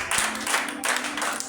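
Broadband applause from an audience at an evangelical church gathering, a steady brief wash of many hands clapping at moderate loudness, with no one speaking over it.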